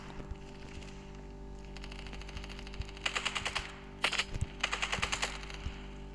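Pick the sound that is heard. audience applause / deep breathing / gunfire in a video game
gunfire in a video game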